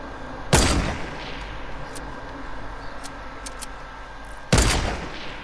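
Gunfire in the Fortnite battle royale video game: two sharp loud shots about four seconds apart, each with a decaying tail, over a steady low background rumble.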